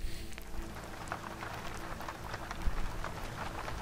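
Steady rain patters across an outdoor camp in a fantasy video game, a dense continuous hiss with scattered brighter drops, moderately loud and unbroken throughout.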